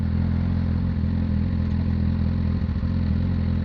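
A motorcycle engine with an old slip-on exhaust idles with a deep, rough, throaty rumble and uneven exhaust pops, steady and close, no talking.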